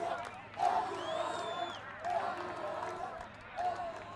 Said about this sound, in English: And the crowd are singing Andrew Maringa.